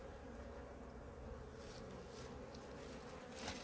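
Honeybees pouring out of the front of a hive when disturbed during a check, giving a faint, steady, agitated buzzing hum with no voices.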